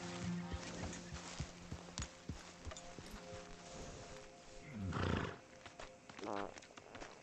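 Horse in the video game Red Dead Redemption 2 snorting and neighing, with hoof clip-clops and a loud breathy whinny in the latter half over a soft game music bed.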